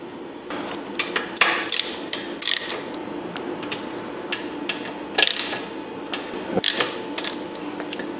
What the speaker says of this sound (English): we'll just spin the bolts back in it, snug it up, and hope for the best